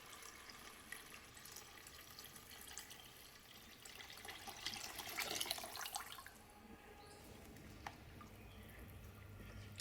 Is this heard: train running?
no